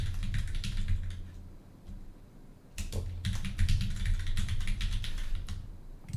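Typing a password on a computer keyboard while setting up a client certificate, with rapid, close key clicks in two bursts separated by a short pause.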